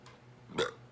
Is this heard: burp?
yes